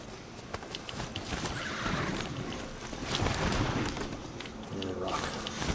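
A horse whinnies in a game world, its neigh rising over a busy background of hoofbeats and ambient noise, with scattered bird calls.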